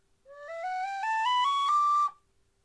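A tin whistle played in a rising run of bright, clear notes stepping upward and ending on a sustained high tone blown harder, alone and close, with no talking.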